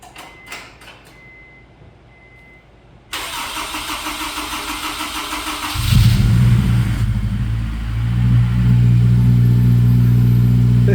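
A Honda F22 engine newly installed in a car cranks briefly and fires up, then settles into a steady, loud idle with a deep low rumble, heard close with no talk.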